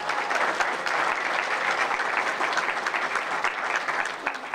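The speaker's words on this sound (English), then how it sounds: "Let's give Katie a big round of applause" Steady audience applause at a men's basketball coach introductory press conference, a dense, even wash of clapping from a moderate crowd, heard alone without speech.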